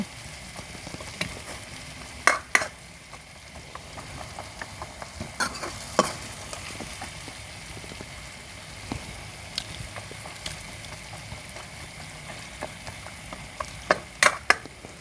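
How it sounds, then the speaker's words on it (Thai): Coconut simmers in a pan until its oil separates while being made into a coconut achar, with a steady low sizzle and scattered sharp clicks and scrapes of a utensil stirring throughout. "เคี่ยวไปนะคะ ให้แตกมัน"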